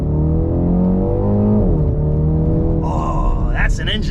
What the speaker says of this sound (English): That's an engine note.